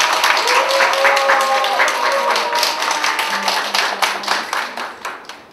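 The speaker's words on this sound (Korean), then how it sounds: "박수로 맞이해주시기 바랍니다." An audience at the opening ceremony of a university literary therapy research center breaks into dense, close applause that holds steady for several seconds, then thins and fades toward the end.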